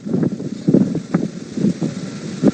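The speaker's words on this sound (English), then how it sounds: "Wow, it's getting a little windy." Steady outdoor wind buffets the microphone in a continuous rumbling rush, rising and falling in gusts, loud and close with no voices.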